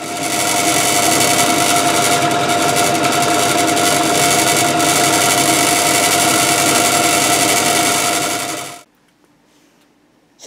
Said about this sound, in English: So I'll just drill that out very quickly now.